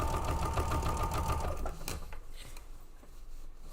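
A sewing machine stitches fabric in a steady, fast mechanical whir for under two seconds, then stops, leaving quieter handling noise and faint room sound.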